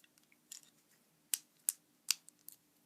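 Plastic Lego Megazord head halves snap into place with a few sharp, quiet clicks, spaced irregularly and close up, with faint lighter taps between them.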